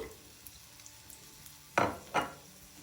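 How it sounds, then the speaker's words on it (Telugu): Cumin, coriander seeds, dried red chillies and garlic cloves frying in hot oil over a medium flame for an okra masala, with two loud bursts of sizzling stirring and a quiet background otherwise. "ఇప్పుడు వీటిని మాడకుండా మీడియం ఫ్లేమ్లో వేయించుకోవాలి"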